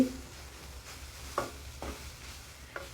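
Grated carrots for carrot halwa sizzle in a heavy-bottomed pan, with a quiet steady fry broken by a few soft stirring scrapes, close up and with no talk.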